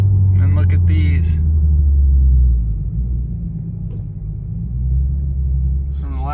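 An Infiniti Q50 engine rumbles loudly and steadily as both tires spin, a deep continuous drone close by, with brief voice fragments at the start and end.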